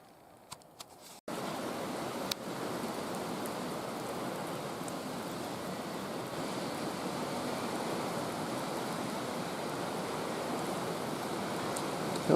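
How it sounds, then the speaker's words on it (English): A spring rain storm passing by, heard after a short quiet opening as a steady, dense hiss of rainfall that holds at an even level to the end. "there's waves of rain coming by"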